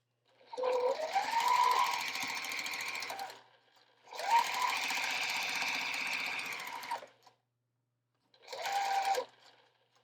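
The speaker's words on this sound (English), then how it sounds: "I'm going to sew these together." A sewing machine stitches quilt blocks together in three bursts, two long runs and a short final one separated by pauses, steady and close with no talking.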